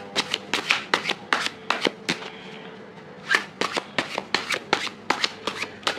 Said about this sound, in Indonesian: kok kartunya agak lebih lama shufflingnya dibanding yang tadi